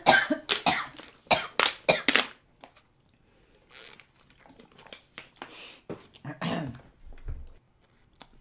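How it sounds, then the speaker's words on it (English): A woman coughing close to the mic, a rapid burst of several sharp, harsh coughs at the start, followed by quieter throat sounds and breaths. "sorry, I had to cough there"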